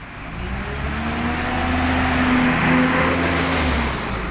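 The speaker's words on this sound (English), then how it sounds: "Just got a bus approaching, Route 3, Enviro 400 double decker." An Enviro 400 double decker bus on Route 3 approaches along a main road, its engine note rising and swelling to a close, loud pass before easing slightly, with no one speaking.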